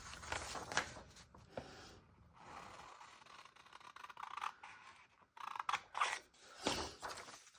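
Scissors snip and paper rustles as a picture is cut out for an art collage album, quiet close clipping in short bursts with small pauses between cuts.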